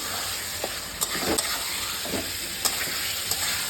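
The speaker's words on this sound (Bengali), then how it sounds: "এখন মশলাটা আমার আলুর সঙ্গে ভালোভাবে ভাজা হয়ে গেছে" Spice paste frying with fried potatoes in a pan, a soft continuous sizzle and hiss with intermittent scraping stir sounds and small pops, fairly quiet and with no talk.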